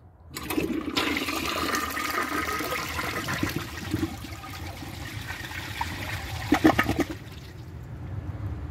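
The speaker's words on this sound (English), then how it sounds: "Press and release flush." A 2003 American Standard Hamilton toilet flushes after a press-and-release of the handle, giving a steady close rush and gurgle of water that runs for several seconds, then thins into a trickle.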